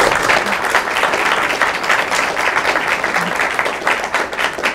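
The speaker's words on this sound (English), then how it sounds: "give them a round of applause" A conference audience gives a loud, steady round of applause, dense clapping that holds throughout without pause.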